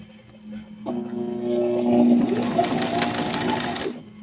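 A sewing machine stitching elastic onto an abaya runs loudly up close, starting with a whine and settling into a continuous fast mechanical whir for several seconds before stopping abruptly.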